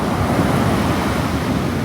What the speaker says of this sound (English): they hear the waves crashing in their ears